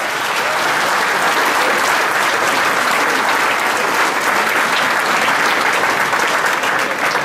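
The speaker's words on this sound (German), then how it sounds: "Die beiden haben auf jeden Fall schon mal einen kräftigen Applaus verdient." Dense, sustained applause from a large crowd at a town culture night event, loud and even throughout with no break.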